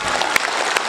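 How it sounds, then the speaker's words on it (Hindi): An audience at a Hindi poetry recital claps steadily, a dense close wash of hands with a couple of sharper claps standing out, alone without speech. "कम तालियां हैं साहब।"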